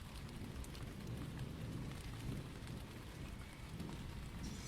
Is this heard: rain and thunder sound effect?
yes